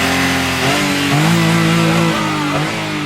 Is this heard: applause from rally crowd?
no